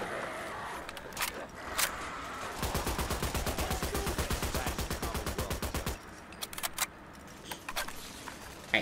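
Automatic gunfire in Fallout 4: a long, rapid, steady burst of rounds lasting several seconds, framed by a few single shots before and after.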